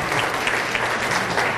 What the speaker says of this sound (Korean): 자, 그럼 이제 페이스북 박수